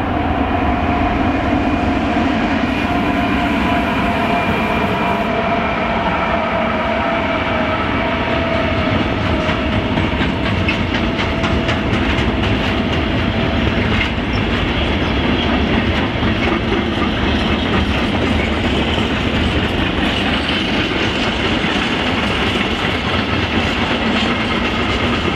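A long freight train, carrying sawn timber in the first wagon, rolls steadily into Gemünden am Main station with continuous rumbling and rhythmic clickety-clack of wheels, loud and close, with no voices.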